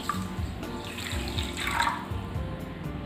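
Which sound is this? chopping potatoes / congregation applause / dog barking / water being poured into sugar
water being poured into sugar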